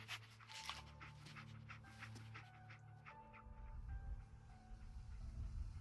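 Dogmeat, the dog companion in the video game Fallout 4, panting steadily at close range over a low game ambience and rumble, with no talk.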